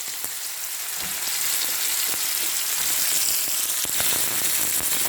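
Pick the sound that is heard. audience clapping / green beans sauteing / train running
green beans sauteing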